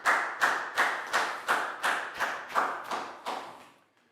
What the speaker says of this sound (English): a big round of applause for Net